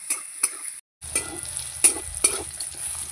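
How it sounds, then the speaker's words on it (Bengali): Eggplant pieces seasoned with salt and turmeric sizzle steadily in hot oil in a pan. A brief silence falls, then the frying resumes, broken by a few sharp spits and stirring scrapes up close. "বেগুনটাকে লাল লাল করে ভেজে নেব"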